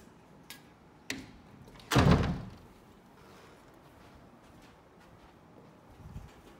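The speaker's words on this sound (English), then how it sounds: "I had to build up to pull this door open like that" A pair of double doors at Maui Hill Resorts is pulled open in a quiet room: a couple of small clicks, then a solid wooden thunk with a brief rattle, fading to a faint click near the end.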